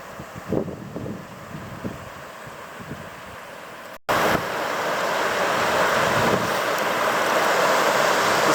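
Water rushing over the spillway out of Top Lake in the northern Wind River mountains, a steady broadband roar that swells and holds loud and close after wind gusts buffet the microphone.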